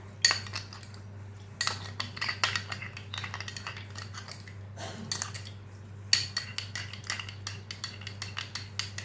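A spoon stirs sugar into room-temperature milk in a bowl, giving quick, repeated clinks and scrapes in bursts with brief pauses, close up and alone.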